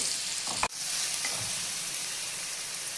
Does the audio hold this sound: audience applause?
no